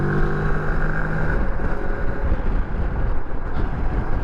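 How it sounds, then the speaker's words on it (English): A Moto Morini X-Cape motorcycle with a 60-horsepower engine accelerates on a highway, its steady engine drone heard close up under heavy wind rush, with no talking. "See, the acceleration of the bike is really pretty strong."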